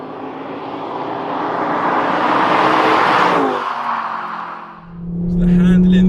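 A 2005 Ford Focus ST 2.5T engine drones from inside the car while driving, its note swelling as the car accelerates and then dipping before a low, steady hum returns.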